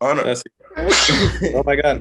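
A single sharp sneeze bursts out after a short pause, loud and close, with talking just before and after it.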